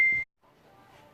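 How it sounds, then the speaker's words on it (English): A phone's notification bing rings out loud and close as a single short tone, then cuts off into quiet room noise. "my sound is still on my phone that I'm recording the lives with. So you guys are getting big, loud bings"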